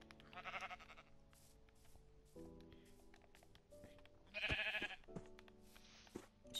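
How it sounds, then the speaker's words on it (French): Sheep bleating in a survival video game, a few wavering bleats in two bursts over quiet game music and ambient sound. "Super, j'arrive même pas à tuer un mouton."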